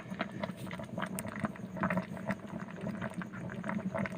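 Tamarind, salt and turmeric simmer in an electric rice cooker, giving a steady soft bubbling and gurgling with scattered small pops, close and moderately quiet throughout.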